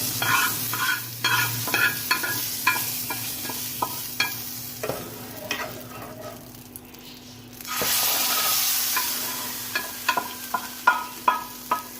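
Hot tarka is poured into cooked kaali daal, setting off a burst of hissing sizzle that swells in the middle and then fades, among clinks and scrapes of stirring.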